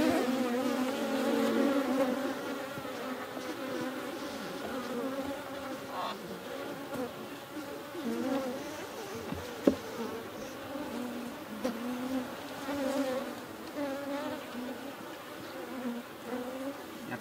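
Honey bees hum in a dense, continuous swarm around an opened horizontal hive split, loud and close, with no voices.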